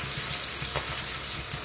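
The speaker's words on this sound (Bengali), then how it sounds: "মাছটা ভাজা হয়ে গেছে," A pomfret fish fries in oil in a pan, giving a steady close sizzling hiss with small crackles and no talking.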